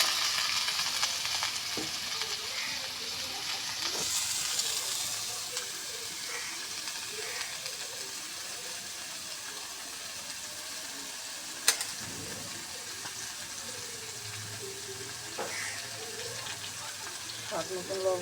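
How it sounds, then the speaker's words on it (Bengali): Bitter gourd frying in hot oil with onion, garlic and chili for a rustic Bengali dish, giving a steady, close sizzle throughout with occasional stirring scrapes and one sharp clink. "এখন আমি করলাগুলো ঢালে দেবো।"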